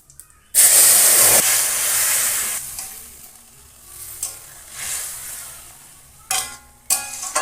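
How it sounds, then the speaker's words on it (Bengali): A mixed-greens and small-fish vegetable curry is poured into sizzling tempering in a wok, bursting into a loud sudden sizzle that slowly fades into a softer bubbling hiss, broken by a few stirring scrapes. "ভাজা হয়ে গেছে এবার তরকারিটা ঢেলে দেবো"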